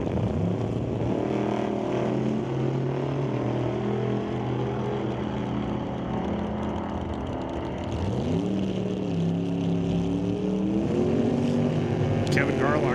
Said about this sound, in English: The Camaro versus Camaro showdown. We got the 86 Camaro in the right lane